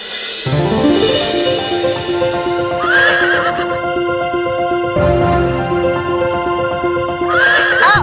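Horses harnessed to a chariot whinny twice, each a loud, drawn-out neigh, over a steady layer of hooves clip-clopping close by with no talking.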